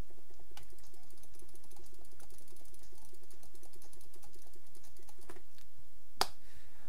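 Computer keyboard typing mixed with mouse clicks, recorded through an ABKO Hacker B980 microphone: a quiet, even clatter of keys near the mic over faint background music, ending with one sharper click.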